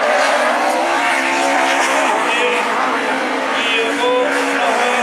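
Peugeot rallycross race cars roaring past in a Châteauroux final, loud revving engines shifting pitch as they pass close, with a commentator talking over the racket.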